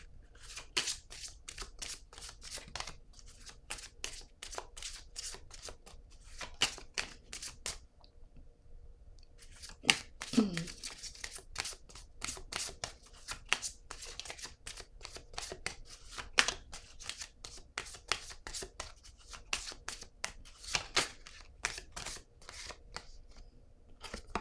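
Oracle cards shuffled by hand in rapid bursts of crisp riffling clicks, pausing briefly then resuming in a dense run of snaps, close and clear with no talking.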